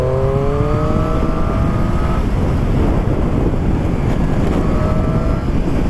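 Triumph Street Triple S 660 A2 motorcycle engine at speed, a steady loud roar with rising and falling tones as it revs, heavy wind rush over the microphone.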